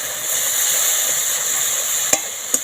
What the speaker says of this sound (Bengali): কাজু বাদামটা মশলার সঙ্গে ভালো করে কষিয়ে নিলাম।